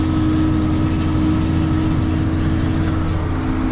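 A 2294 four-wheel drive tractor pulling a heavy drill while sowing cover crops, its big diesel engine giving a steady, low, droning rumble at constant load, close and continuous with no talk.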